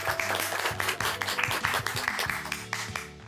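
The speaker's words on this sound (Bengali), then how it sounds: "একটু হাততালি হবে, একটু ক্ল্যাপিং হবে।" An audience applauds the winner of a Bengali homemaker contest show, a fairly soft, steady patter of clapping mixed with background music.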